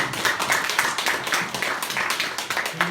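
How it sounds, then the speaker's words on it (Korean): A seminar audience claps together in a steady, dense patter of many hands, fairly close and continuous for a few seconds, with no talking over it. "두 분을 위해서 한번 박수 한번 쳐주십시오."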